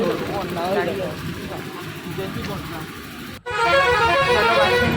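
Inside a moving bus on a road trip to Medinipur, engine rumble mixes with someone talking, then a loud, sustained horn blares after a sudden cut.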